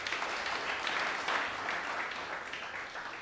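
Congregation at a church service breaks into sustained applause, a dense, steady wash of clapping from many hands throughout, holding level before easing slightly toward the end.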